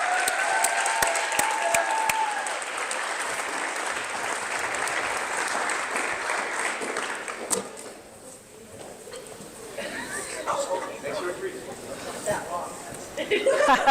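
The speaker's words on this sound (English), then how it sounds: "Let's give them a round of applause." A crowd of parents and guests at a school athletes' signing day applauds loudly for several seconds, the clapping fading out midway as scattered voices and murmuring talk take over.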